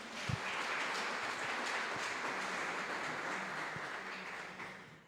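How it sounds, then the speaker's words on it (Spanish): Applause from an audience at a catechesis congress on synodality fills the room as a steady, fairly faint wash of clapping that swells quickly and tapers off at the end. "Un fuerte aplauso, por favor."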